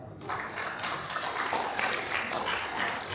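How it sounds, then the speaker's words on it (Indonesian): A church congregation applauds, a dense, moderately loud wash of clapping that starts abruptly and carries on steadily, with faint voices mixed in. "Tepuk tangan."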